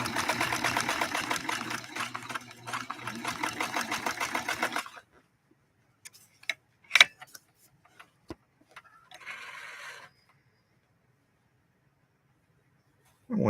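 A Necchi Lelia 512 sewing machine runs in a steady, fast rhythmic whir for about five seconds, then stops, followed by scattered clicks and handling taps and a short second burst of motor hum.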